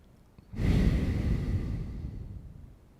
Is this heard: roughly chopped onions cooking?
no